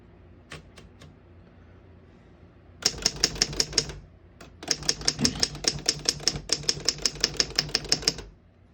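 Typing and carriage mechanics of a 1936 Underwood No.6 antique desktop typewriter: a few sharp line-space clicks, then two rapid bursts of crisp, evenly spaced clacks and ratchet sounds, close and loud with no talking.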